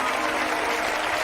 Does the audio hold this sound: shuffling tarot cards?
no